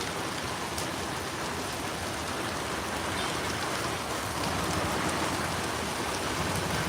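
Steady rain pours over a road in Kuttiady town, a dense, even hiss of drops hitting the surface with no break and no voices.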